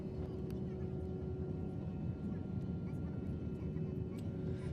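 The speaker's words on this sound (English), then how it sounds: "and now we are on the runway ready for takeoff" An MD-80 airliner sits on the runway before takeoff, its engines making a steady, loud, broadband roar with a constant hum, heard from inside the cabin.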